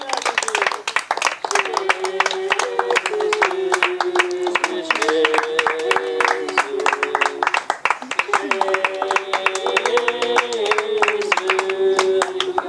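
Congregation clapping hands during a baptism service at a French church, steady rhythmic claps running throughout alongside singing voices and music, fairly loud and continuous.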